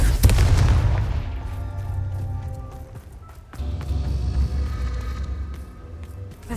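Confringo explosive curse blasts go off in the video game Hogwarts Legacy. A loud booming explosion rumbles and fades, then a second deep blast follows a few seconds later, each trailing off into a low roar.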